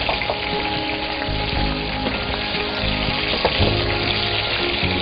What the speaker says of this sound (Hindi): ये हरी मिर्ची पिसी हुई है हमारे पास, तो थोड़ा फ्राई करेंगे।